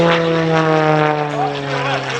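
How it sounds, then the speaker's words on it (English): Propeller aerobatic airplane performing at the Dayton Air Show, its engine droning with a steady, strong harmonic tone that shifts slightly in pitch as it maneuvers, loud and close. "Moving the aircraft high pitch by right side up, then changes direction with a rapid roll."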